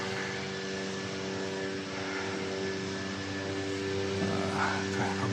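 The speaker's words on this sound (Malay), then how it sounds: "Dua kapal apa? Kapal" Fighter jets fly over Klebang Beach in Melaka, giving a steady, humming aircraft engine drone that holds at a moderate level throughout and swells slightly near the end.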